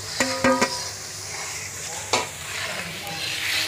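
Chopped ginger stirred in a hot pan for chili chicken, with a soft constant sizzle broken by a few sharp spatula scrapes and clinks against the pan.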